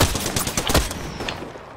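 Gunshots in Apex Legends: a quick string of loud, closely spaced shots up front, thinning into a couple of scattered reports and a faint whistling tail.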